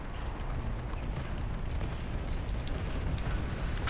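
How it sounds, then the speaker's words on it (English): Aircraft combat video game with a dense, continuous roar of gunfire and explosions, loud and sustained without pause, with a brief higher whine partway through. "There's something shooting down there."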